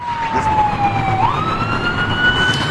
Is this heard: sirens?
yes